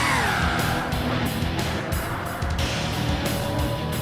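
A McLaren race car screams at high speed past a Dodge Viper in a race, its engine loud and sustained for several seconds with dense broadband roar and no talk over it.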